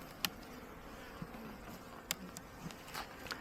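Soft, steady buzzing of honeybees at a hive during inspection fills the air, with occasional faint taps and clicks scattered through the quiet hum.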